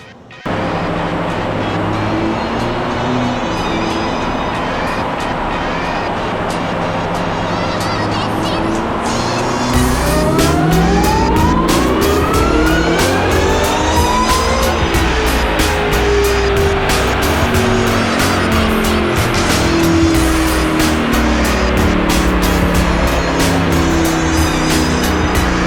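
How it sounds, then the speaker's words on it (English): A 2024 Ford Raptor R truck engine roars continuously on a dyno, loud and sustained throughout, the pitch sweeping upward as the revs climb during the second half. "So this is actually the last pull because I had no more time left here on the dyno."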